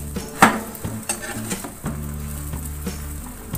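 Food cooks in a pan over a low flame for a cheap egg breakfast, with a gentle sizzle under sharp scraping and clinking as a utensil turns it over.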